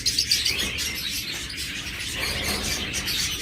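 Farm-bred pet birds chirp and tweet in rapid, overlapping calls, close and lively, continuing throughout with no talk.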